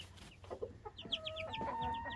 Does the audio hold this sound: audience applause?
no